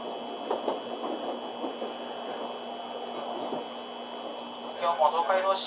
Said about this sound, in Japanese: こだま号名古屋行き発車いたします。